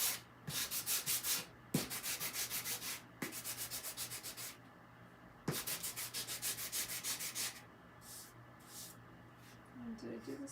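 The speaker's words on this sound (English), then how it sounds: "Always go in the same direction when you're sanding." Wood is sanded by hand with a block, moving with the grain in long, even rasping strokes that come in steady bursts with short pauses, close and fairly quiet, while a voice talks.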